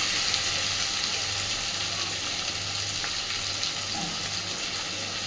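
Potatoes and tomatoes fry together in a pan, giving a dense, even sizzle and hiss that runs close and steady throughout, with no talking.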